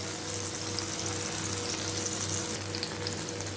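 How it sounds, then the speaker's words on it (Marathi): Prawns coated in rava fry on a hot tawa, both sides browned, giving a steady close sizzle and crackle with a faint low hum underneath, no one talking. "प्रॉन्स आपल्या दोन्ही बाजूने फ्राय झालेत"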